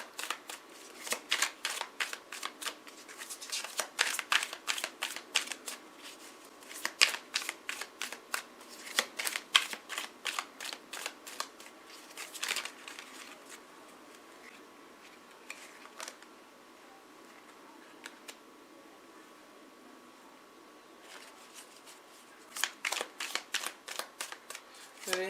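Tarot cards being shuffled by hand in repeated riffling bursts, close and soft in a quiet room, with a long pause midway before shuffling resumes.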